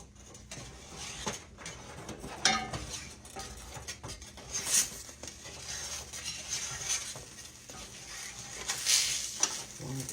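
Spinach and cheese filling fries in a home skillet while it is flipped, giving a soft, steady sizzle with scrapes and light utensil clinks against the pan.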